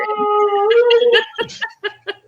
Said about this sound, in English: He sings to the sirens.